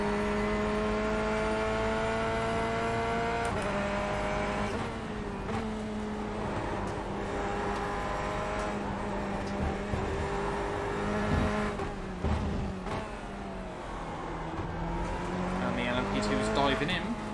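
An LMP2 prototype race car closes in during an iRacing sim race at Interlagos, with a steady high engine whine that shifts pitch as gears change, under continuous talk.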